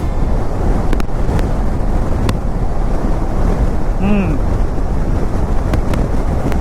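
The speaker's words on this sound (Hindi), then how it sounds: "हवा की स्पीड जो बाहर चल रही है वो बहुत तेज़ है, बहुत तेज़ आंधी चल रही है बाहर।" Strong gale-force wind roars past while riding a Himalayan 450 motorcycle on a Leh-Ladakh highway. The loud, constant buffeting rushes against the microphone without a break, with a faint brief chirp partway through.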